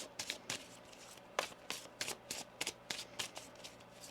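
Tarot cards being shuffled by hand in a series of quick riffling bursts, about a dozen crisp papery flurries close to the mic with short pauses between them, no talking.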